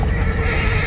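A loud, close horse neigh, a shaky whinny filling the short moment with a rough, vibrating tone.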